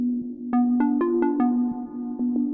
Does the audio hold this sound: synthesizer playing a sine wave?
yes